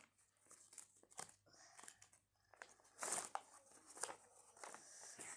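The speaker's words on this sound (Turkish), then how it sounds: "Kağıt sesi geldi. Bu bence senin kağıt yelpazen." A paper hand fan crinkles in a quiet room, a series of brief dry rustles and crackles spread across the moment, close and fairly soft, with faint voices now and then.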